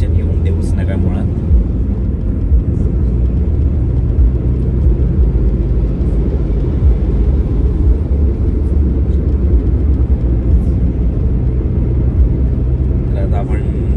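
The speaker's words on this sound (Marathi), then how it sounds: "आणि गाडी आपण चालवतो" Interior road noise of a car on the road to Chiplun, a steady, loud low rumble throughout with faint higher rattles, and talk inside the cabin.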